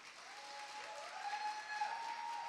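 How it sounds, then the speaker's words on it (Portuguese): A church congregation applauds young missionaries, a steady dense wash of many hands clapping across the room, even in level with no voices over it. "um aplauso para eles"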